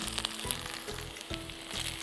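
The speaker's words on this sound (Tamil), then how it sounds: "இந்த பூண்டு வந்து நல்லா வறுபடணும்." Chopped garlic fries in hot oil after mustard seeds and urad dal in a home-style Tamil tempering, giving a steady close sizzle with soft crackling pops throughout and no voices.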